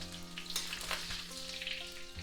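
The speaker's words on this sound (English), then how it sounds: "Saute the ginger a little bit." Ginger sautéing in oil gives a soft, steady sizzle with brief bursts of crackle, faint and close, beneath low tonal background sound and no speech.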